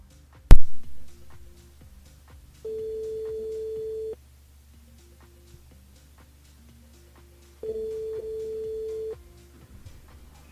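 A radio show studio telephone rings for an incoming caller, two long steady electronic ring tones separated by a pause, preceded by a sharp click, with faint ticking in a quiet background.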